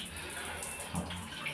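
Running water from a bathroom tap after a new angle valve and hose are fitted, a steady close hiss of strong flow with slight splashing throughout.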